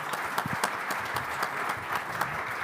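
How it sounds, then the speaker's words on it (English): An audience applauds a morning conference panel, a dense, steady patter of many hands clapping for a few seconds, fairly close and loud, with no speech over it. "A big hand of applause for our panel this morning."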